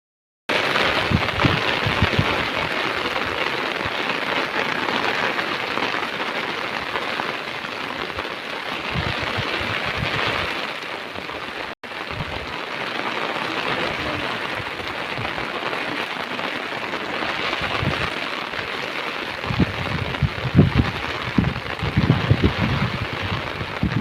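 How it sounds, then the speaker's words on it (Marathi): Steady rain pours down continuously, a dense hiss with occasional heavier spatters, no voices present. "पाऊस पाऊस कसा आलेला आहे"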